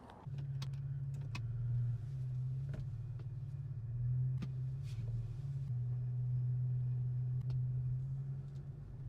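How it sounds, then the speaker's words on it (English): Steady engine hum and road rumble from inside a moving Infiniti Q50 at night, with occasional light clicks and rattles, continuous and fairly even throughout. "we just gonna drive around in the big body Q50"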